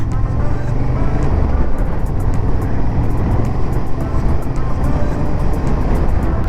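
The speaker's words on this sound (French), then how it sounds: "Oh, encore des Porsche." A constant loud rumble of traffic with Porsche cars going by. There is no clear single pass-by, and a voice is partly audible over the noise.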